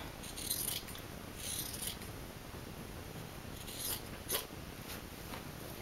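Scissors snip through fabric lining for a homemade seatbelt pillow in a quiet room, a few soft crisp cuts spaced out over a steady faint hiss, close and gentle.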